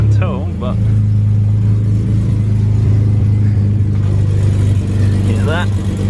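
Ford AU Falcon engine idling and revving with a leaking exhaust gasket, a steady low rumble with brief rises in pitch, close by, while a person talks over it.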